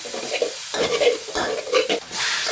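Minced pork stir-frying in a pan, an up-close sizzle punctuated by irregular spatula scrapes and stirs, fairly loud throughout.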